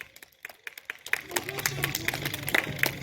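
Children clap at a kindergarten sports day, a busy patter of small hands that thickens after the first second, close by and mixed with an adult's voice and other chatter.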